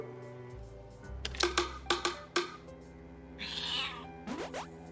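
A cat in the video game A Space for the Unbound gives a few short meows, preceded by quick clicking taps and a brief swish over a faint musical background.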